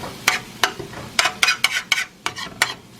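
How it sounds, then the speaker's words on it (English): Sausage cooking in a pan alongside eggs and spinach, with a series of sharp scraping stirs and utensil clicks over a faint sizzle, close and fairly loud, with no talking. "So we got the sausage cooking over here."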